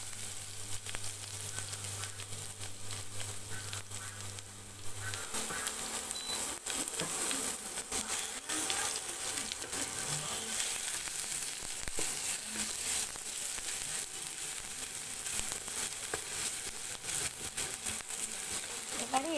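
Whole cumin seeds, dried red chillies and crushed ginger crackle in hot oil in a kadai, a steady close sizzle with fine popping running throughout, with no voices.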